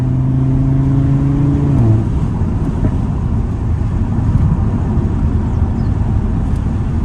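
An 8V Audi RS3 pulls away hard from a standstill, its engine note rising steadily then dropping as it shifts, followed by a loud, continuous roar of acceleration with road and wind noise throughout.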